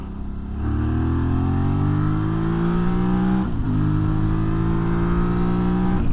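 Rieju Xplora 707 motorcycle engine pulling hard on an open road, loud and steady with rising pitch through the gears and a brief dip at a shift midway.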